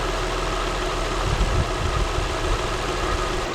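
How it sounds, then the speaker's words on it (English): A car engine idles steadily while its cooling system is bled of trapped air, a constant low hum with no talk over it. "after about 5-10 minutes, after it stops gurgling, we can go ahead and shut it down"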